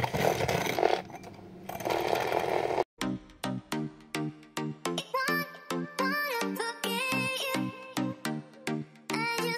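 A handheld frother machine whirs loudly for about three seconds while frothing coffee, then cuts off abruptly. Separate tonal pulsing sounds follow.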